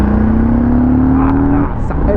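A 2022 Harley-Davidson Street Bob motorcycle pulls hard with a close, loud engine note whose pitch climbs steadily over about two seconds, then eases off.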